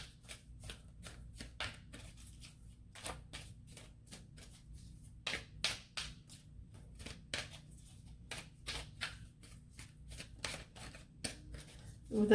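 Tarot cards are shuffled by hand in steady bursts of crisp riffling and flicking, near and fairly quiet, going on for several seconds with no talk.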